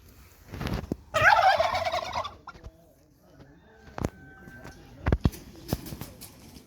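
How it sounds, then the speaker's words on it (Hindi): A display turkey gobbles in a loud, rattling burst lasting about a second, followed by quieter clucks and scattered sharp bird calls nearby among other fowl. "टर्की का डिस्प्ले चेक करें"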